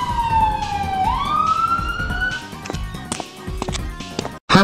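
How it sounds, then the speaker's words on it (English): A police car siren wails loudly in a steady rising and falling sweep, with other sharp effect sounds layered over it before it cuts off abruptly near the end. "Oh, here comes the police car now."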